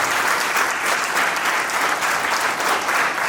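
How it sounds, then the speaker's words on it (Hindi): An audience claps loudly and steadily in a dense burst of applause for Mr Roshan Yadav at an AWPL event. "मैं एक बार आप लोगों से जबरदस्त ताली की गुजारिश करूंगा मिस्टर रोशन यादव सर के लिए, जबरदस्त ताली"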